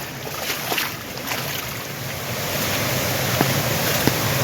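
Steady rushing water fills the clip, a continuous broadband wash with a few faint clicks, like a mountain stream flowing over rocks nearby during monsoon rain in Konkan, with no voices.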